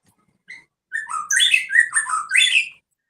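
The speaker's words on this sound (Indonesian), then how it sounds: "bunyi burung siapa itu?" A bird squawks indoors: a short call, then a run of loud, harsh, whistling squawks in quick succession, close and clear against otherwise quiet surroundings.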